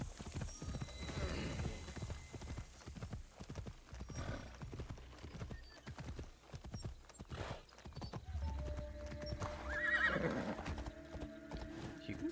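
A horse gallops with rapid, steady hoofbeats, then lets out a loud neigh near the end, in the Assassin's Creed Shadows video game.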